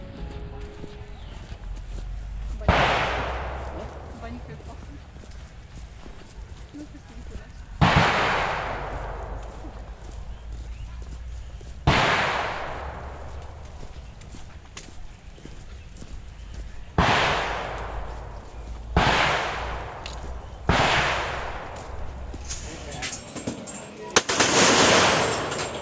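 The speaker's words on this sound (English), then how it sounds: "So I just fired an American M16 rifle" American M16 rifle fired at a shooting range in Vietnam: about eight loud, sharp reports spaced a few seconds apart, each with a decaying echo, the last few coming in quicker succession.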